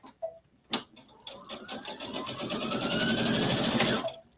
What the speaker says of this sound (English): I'm going to go ahead and sew down this line